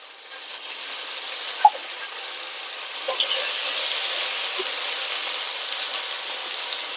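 Garlic and onion spice pastes fry in a pan with a soft, steady sizzle, broken by a few light stirring clinks.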